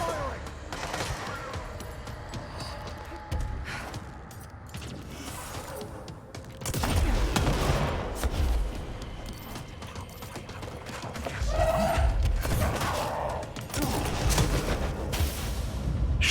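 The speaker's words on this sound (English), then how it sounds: "Don't stop firing!" Repeated bursts of gunfire in the video game Control clatter at mid distance amid mechanical clanks and rumbling effects, coming in uneven clusters over a sustained fight.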